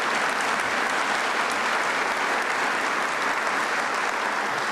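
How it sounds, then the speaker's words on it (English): Dense, sustained audience applause for special guests at a 2016 State of the County Address held at Green Ridge Recreation Center, loud and even throughout with no talking. "Round of applause, please, for all of our special guests today."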